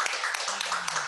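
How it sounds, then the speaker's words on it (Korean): A crowd at a Christian teachers' conference applauds, a brief burst of many hands clapping close by. "박수 한번."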